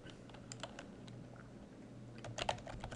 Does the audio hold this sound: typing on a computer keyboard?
yes